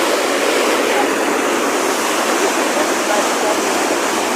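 A flooded river in the Kibra slums, swollen from a small stream into a torrent, gives a loud, dense, unbroken roar of rushing water close by with no break.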